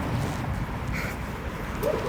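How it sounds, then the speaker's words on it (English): Dogs in a rural Chinese village bark and yip in the distance, a few faint, scattered calls over steady outdoor background noise. "Pretty much every household here in the village have dogs here."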